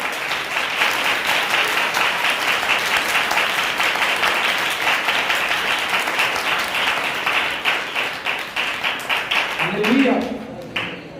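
A church congregation at a Sunday sermon applauds loudly and continuously, dense hand clapping that holds steady for around ten seconds before thinning out, with a voice briefly heard near the end.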